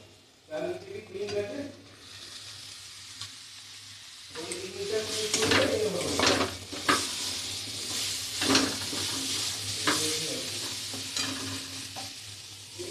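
Grated pumpkin goes into a hot pan for pumpkin cutlets, and a steady sizzle and frying hiss follow. A spoon scrapes and stirs in irregular strokes, and a voice is faintly audible underneath.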